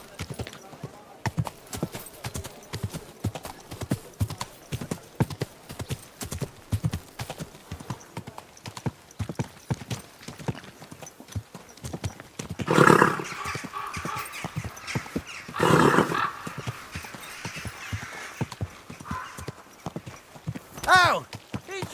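Steady clip-clop of horse hooves on hard ground in Kingdom Come: Deliverance 2, with a few louder neighs and whinnies and occasional nearby voices.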